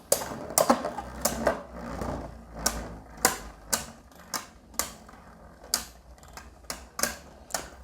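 Beyblade Burst spinning tops, Dragoon and Dranzer, clash in a battle arena, a steady close whirr punctuated by about a dozen sharp irregular metallic hits and clacks, with no speech.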